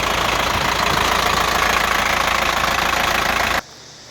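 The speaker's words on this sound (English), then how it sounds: "As you can see there, compressor is working." Air compressor running on a 2004 GMC box truck makes a loud, steady engine-like drone and rattle up close, which cuts off sharply near the end and leaves a quiet background.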